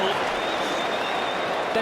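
Massive football crowd at the MCG roaring after a goal kicked by Matthew Richardson, a dense, loud, unbroken cheer mixed with applause.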